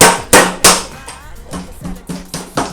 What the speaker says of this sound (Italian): Per infilarlo bene dovete battere con un martello di gomma.